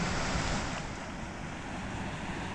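Small waterfalls among mountain lakes, a steady rushing wash of falling water heard close, mixed with wind buffeting the microphone.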